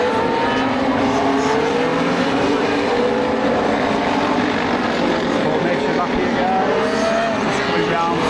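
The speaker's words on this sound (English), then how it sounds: "And they're revving, they're ready to go, and they're off." Formula 1 race cars revving and pulling away at the start of the 2025 Austrian Grand Prix, a loud, continuous engine roar with rising pitched whines heard from the spectator area, no talking.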